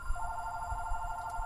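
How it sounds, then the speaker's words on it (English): A telephone rings with a steady electronic trill, held at moderate volume under a low background rumble, with no talking. "There's the phone."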